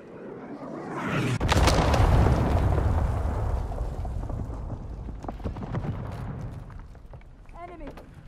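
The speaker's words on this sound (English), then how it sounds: "Cruise missile launched." A cruise missile detonates in Call of Duty Modern Warfare 2 multiplayer, a loud booming blast followed by a long rumbling roar that fades slowly, with scattered gunfire cracks and a voice briefly speaking near the end.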